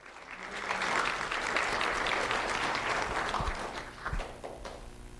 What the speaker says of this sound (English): Round of applause for Isaac Fernander.